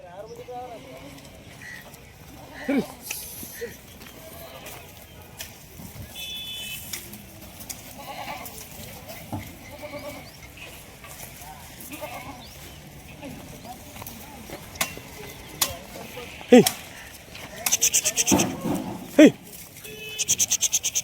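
Kathiawadi goats being sold from a loaded vehicle bleat amid livestock shuffling and hoof clatter, occasional calls rising over a busy outdoor scene with people talking throughout.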